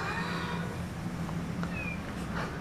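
Cats kept indoors while volcanic ash falls outside in Mexico, meowing and complaining in short, faint calls over a steady background hiss.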